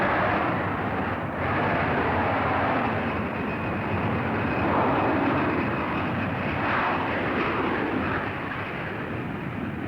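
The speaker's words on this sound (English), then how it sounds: "The Canadian Starfighters aerobatic team opened their performance with a formation takeoff." Lockheed F-104 Starfighter jets taking off together in formation at an air show, a loud continuous roar of jet engines sustained and broadband throughout.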